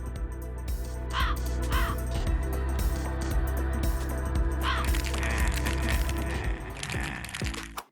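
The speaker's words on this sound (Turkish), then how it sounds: "Çalar saat yerine de kargalarımız var." Several crow caws ring out in short bursts over a dense, busy background of music and clatter, the calls clear but not dominant.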